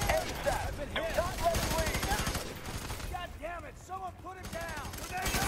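Heavy gunfire in the shooter FEAR 3 rattles in sustained, dense bursts at moderate distance, overlaid with chirping electronic effects and a voice speaking.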